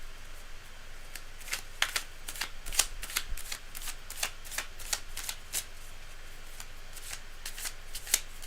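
A deck of tarot cards riffled and shuffled close up, crisp rapid bursts of flicking and snapping repeating irregularly over several seconds in a quiet room.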